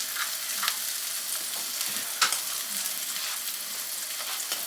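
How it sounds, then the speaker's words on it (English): Eggs seasoned with salt and pepper sizzle in a hot pan on a stovetop while being stirred, a steady close frying hiss with occasional scraping strokes of a utensil against the pan. "we put the eggs in here. I check them, kind of mix them up, add the salt and pepper to them."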